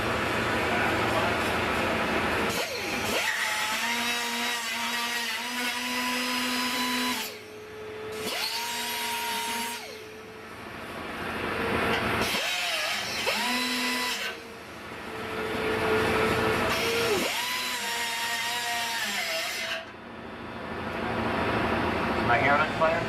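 A power tool whines and grinds while cutting away rusty metal on a Chevy, loud and close, with repeated pitch swoops as it bites and eases off across several bursts.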